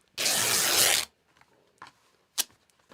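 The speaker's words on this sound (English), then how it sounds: "and you rip it just like this" A piece of fabric is ripped by hand in one loud, close tearing burst lasting about a second, followed by quiet rustles and a short sharp snap of the cloth.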